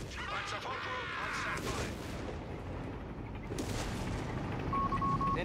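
Incoming artillery fire in a World War II tank video game with Panzer IV crews, heard as continuous dense rumbling booms and blasts with some layered game voices and tones across the clip.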